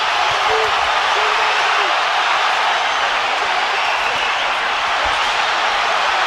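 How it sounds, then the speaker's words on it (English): A boxing arena crowd rises to its feet during the Golovkin versus Alvarez middleweight fight, filling the clip with a loud, dense, unbroken roar of cheering. "Crowd on their feet."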